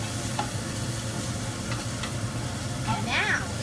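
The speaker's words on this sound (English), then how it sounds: "So the meat is going to be seared." Meat searing in a pan, a steady low sizzle and hiss with occasional utensil scrapes, heard close under faint background voice-like sound.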